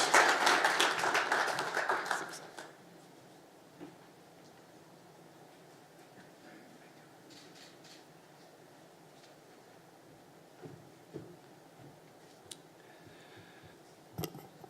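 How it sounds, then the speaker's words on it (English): Applause from the audience at a digital initiative launch, a brief loud burst of clapping lasting about two seconds that quickly fades, leaving a quiet room with a few faint taps and small noises. "How about a big round of applause?"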